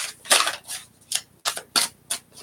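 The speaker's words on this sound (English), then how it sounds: "A couple final shuffles," Tarot cards being shuffled in the hands, a string of crisp riffling bursts and soft flicks in an irregular rhythm, close and alone with no voices.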